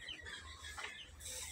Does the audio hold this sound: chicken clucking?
yes